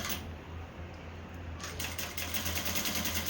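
A sewing machine runs in quick, even rapid stitching while sewing a seam at the center of a kurti neckline, a close, steady mechanical chatter that continues throughout with a faint low hum.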